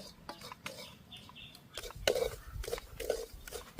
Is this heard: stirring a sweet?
yes